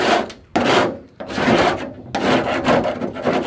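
Rust being scraped off a car part down to bare metal, heard as a run of close, loud rasping strokes of several in a row with brief pauses between them and no talking.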